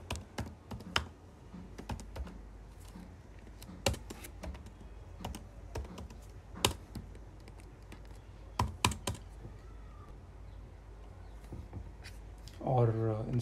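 Code is typed on a computer keyboard in uneven runs of sharp key clicks and spaced taps over a low background hum, and a short voice comes in at the end.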